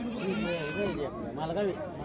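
Goats bleat at a goat market in Peth Vadgaon, giving several quavering, wavering cries close by, heard over and between people talking.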